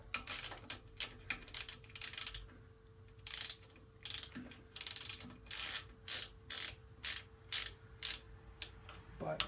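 Torque wrench ratcheting in short bursts while bolts are tightened on a John Deere E100 riding mower being fixed for a small oil leak, a close series of rapid clicking runs separated by brief pauses, with no talking.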